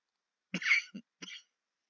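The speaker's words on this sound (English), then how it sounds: "I'm sorry about the cough." A single person coughs at close range, two quick rough bursts and then a shorter third, in an otherwise quiet room.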